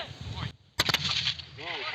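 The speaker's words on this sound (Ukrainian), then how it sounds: "Мінометами знищують живу силу та позиції ворога." A mortar fires with a sharp, loud blast that breaks a stretch of voices, with a quick cluster of cracks and a noisy rumbling tail under more talk.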